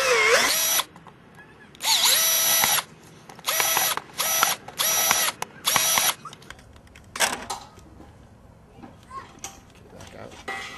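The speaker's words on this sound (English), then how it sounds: "now I'm coming in after this thing a 5/16 bit. Right in the middle, using the pilot hole." A power drill with a 5/16 bit bores polypropylene through a pilot hole for an alpine snowboard riser plate, heard as several loud, close, steady whirring bursts that stop and start, followed by quieter handling noise.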